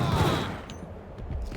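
A burst of loud shotgun gunfire in the video game Max Payne: a heavy close blast at the start decaying into a rumbling tail, with a fainter follow-up thump near the end.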